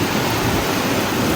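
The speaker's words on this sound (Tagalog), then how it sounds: "Oh my God, umuulan na naman oh." Steady rain pouring down during a typhoon in Canada, a dense, continuous broadband hiss with no pauses and no voices.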